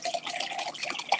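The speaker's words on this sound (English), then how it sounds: "That's water in case anybody has any questions." Water being poured or sipped, a brief splashy, trickling liquid sound heard close up with no voices over it.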